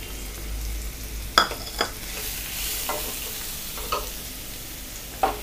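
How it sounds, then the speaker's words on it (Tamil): Finely chopped large onions sizzle in a pan of hot oil over low heat while making egg masala, a steady frying hiss broken by several clanking stirs of a spoon against the pan, close by with no talking. "இப்போ நம்ம பெரிய வெங்காயம் ஆட் பண்ணிக்கலாம். பொடியாக நறுக்குன பெரிய வெங்காயம்."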